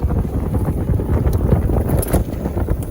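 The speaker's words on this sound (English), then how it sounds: "So we'll go ahead and go full speed right now, throttle only." A Heybike Horizon folding full-suspension e-bike riding at full throttle, dominated by loud, steady rushing wind noise and low rumble from the moving ride, with no talking.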